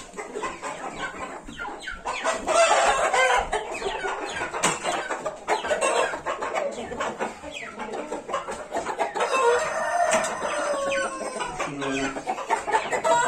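Chickens cluck and chatter in a farmyard, with hens and chicks close by; overlapping calls carry on steadily for the whole stretch, fairly loud and busy.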